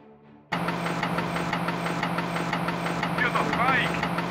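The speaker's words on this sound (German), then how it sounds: "Hear the bike." A motorcycle engine idles in the Battle Islands: Commanders video game, cutting in abruptly and holding a steady low rumble with a regular throb, briefly joined by a rising whine near the end.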